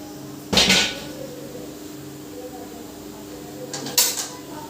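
A large metal wok is set down on a gas stove, giving two clanking knocks a few seconds apart over a low steady background hum.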